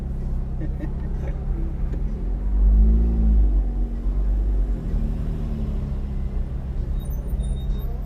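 A Ferrari engine rumbles low while driving through the streets of Nice, France, swelling briefly as it pulls away before settling into a steady cruise, with people talking in the cabin.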